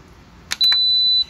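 Electric pressure cooker set to start, giving one short beep followed by a longer sustained high electronic tone, clear and close in a quiet kitchen.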